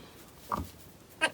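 A newborn lamb, freshly born beside its milk-rich ewe on a village farm, gives two short bleats about half a second apart, the second higher and sharper, over quiet background.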